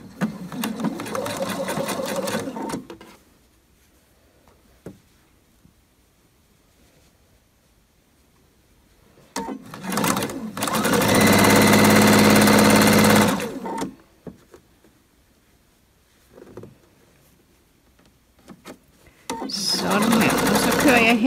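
Sewing machine running in bursts as it stitches the interfacing-backed lower front panel of a long checked vest with shawl collar, a loud steady whir from about 9.5 to 13.5 s, shorter runs at the start and end, quiet pauses between.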